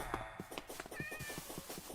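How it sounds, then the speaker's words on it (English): A cat meows in Minecraft, a short game-sound mew cutting through a busy mix of faint background effects, heard briefly and alone without talk. "Meow!"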